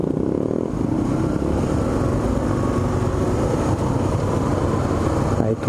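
Steady, dense roar of many motorcycle engines droning together in traffic, loud and continuous without pauses.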